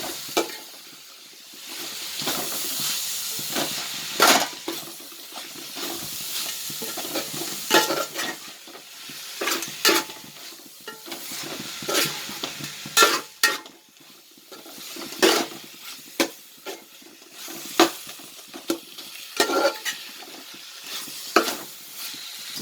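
Coriander and mint leaves are stirred and sautéed in a pan for mutton biryani. A spoon repeatedly scrapes and clinks against the metal over a steady soft sizzle, close up and without speech.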